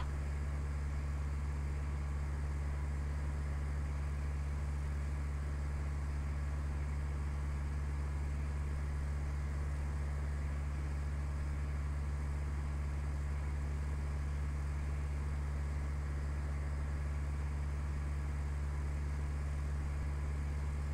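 Simulated aircraft landing on a coral runway in FSX flight simulator, with a constant loud engine drone and a low steady hum running unchanged throughout.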